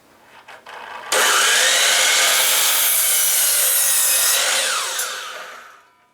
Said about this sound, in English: check it against the table of the miter saw for square, and cut 2 pieces of 2x4 at 16 inches long.